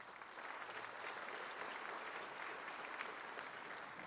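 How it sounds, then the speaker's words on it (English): Sustained applause from a concert audience after a high school band's spring performance, dense steady clapping filling the hall at an even level throughout. "Round of applause for them."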